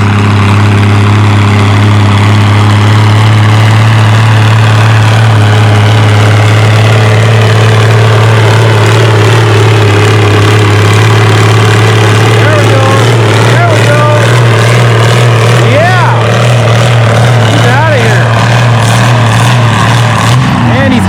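A heavy pulling tractor engine roars loudly and continuously at a tractor pull, with a deep, steady rumble, its pitch shifting slightly as it strains, with a voice talking faintly over it.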